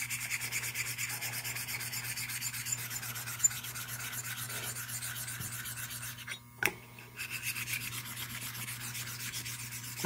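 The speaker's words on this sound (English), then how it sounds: "I'm gonna have to go back over the stones again" A Gold Dollar 208 straight razor is honed on sharpening stones, including a 320 grit, while its bevel is set: a steady, continuous rubbing and scraping drone that runs throughout, with a brief pause near the middle and no talk.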